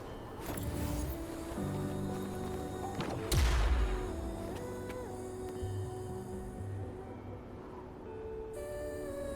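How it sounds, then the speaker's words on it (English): A tacitite fulminate charge blows up in Wuthering Waves with a single loud, deep boom that rolls over steady game music and ambience, then fades to a low rumble. "Perhaps we can create an opening in this disk with an explosion."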